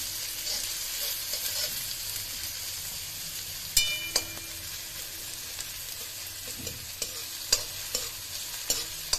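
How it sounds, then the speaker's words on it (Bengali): Onions frying toward golden brown in a pan, a continuous bright sizzle with occasional sharp scrapes and taps of a spatula, close and steady, no one speaking. "পেঁয়াজকে হালকা ব্রাউন হতে দেব, গোল্ডেন ব্রাউন।"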